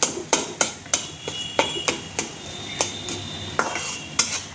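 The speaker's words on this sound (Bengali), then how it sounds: "উনি আস্তে আস্তে করে চুলার আঁচটা কমিয়ে দিয়ে নাড়িয়ে নিচ্ছে।" A spatula stirs dried-fish (sidol shutki) bharta in a pan over lowered heat, making sharp, regular scraping clicks about twice a second. The ticks sound close and distinct against a faint background hum.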